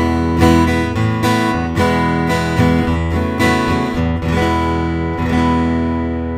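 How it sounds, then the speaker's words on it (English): Dry acoustic guitar played through a Zoom A3 acoustic pre-amp straight to the desk, with no effects blended in: full, loud strummed and picked chords ringing steadily for several seconds with no voices. "so the guitar just sounds like this straight to the desk"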